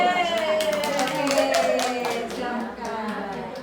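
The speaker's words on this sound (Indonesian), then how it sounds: "tepuk tangan dulu" A group of kindergarten teachers at a training session claps together briefly, a brisk crowd of hand claps over a sustained tonal background sound.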